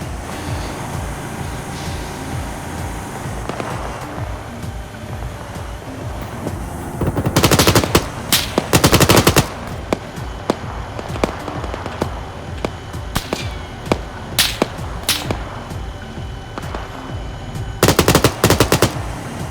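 Rapid bursts of automatic gunfire from a tank's coaxial machine gun in the game Arma 3, loud and close, repeating in short volleys over a rumbling battlefield din.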